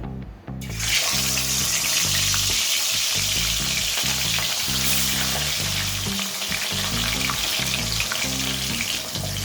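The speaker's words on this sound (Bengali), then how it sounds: "তেল খুব ভালো মতো গরম হয়ে গেছে এবার আমি মাথাগুলোকে ছেড়ে দেব" Fish heads dropped into very hot oil on a high gas flame burst into loud, dense, continuous sizzling and crackling that starts abruptly and holds steady throughout.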